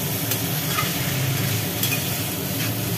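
Jackfruit and potato curry with spices is stirred and fried in a pan, a continuous close sizzle with scraping spatula strokes.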